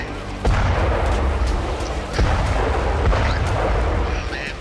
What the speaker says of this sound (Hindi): धू धू कर जलती इमारत में कई बार धमाके भी देखे गए